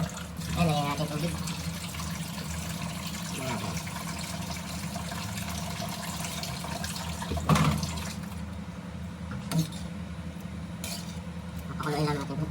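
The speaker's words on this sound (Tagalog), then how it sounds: "Ayan, lagyan natin tubig." Water pours into a cooking pot on a home stove as leftover samgyupsal meat is prepared for pancit miki, a steady running splash beneath a voice speaking in Filipino, with a few clinks and knocks.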